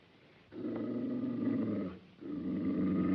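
A dog growls low and steadily in two drawn-out rumbles separated by a brief pause, close and fairly quiet, in the 1935 film The Call of the Wild.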